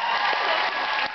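Audience applause at a fan convention Q&A panel, steady, dense clapping filling the room throughout, close and fairly loud with no speech over it.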